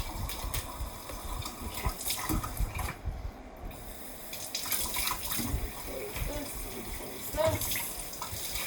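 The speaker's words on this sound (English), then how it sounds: "I'm going to wash my teapot. I have to get my sponge on the inside of the teapot and scrub around." Tap water runs into a kitchen sink while a teapot is washed, splashing and gushing close by with clatter of the pot and a brief spoken word.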